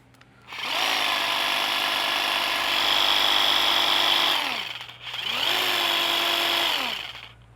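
A Stihl cutting machine runs at 3,000 cuts per minute, a loud, steady motorized buzz lasting about four seconds, winding down, then revving up again for a second sustained burst.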